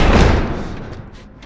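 A door slams shut heavily in the video game The Last of Us, a loud close thud that decays over a second, followed by a few faint scraping knocks as it is barricaded.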